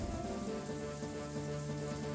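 Steady stormy rain falls in the Umineko video game, a dense, even hiss and patter with continuous drops on surfaces, filling the whole stretch with no voices.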